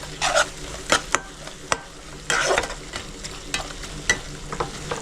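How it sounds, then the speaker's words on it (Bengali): A spoon stirs garam masala through a chicken roast in a pan, producing repeated scraping strokes over a low, steady sizzle with occasional taps. No one speaks. "গরম মশলা দিয়েও আমি ভালো করে মিক্স করে নিচ্ছি।"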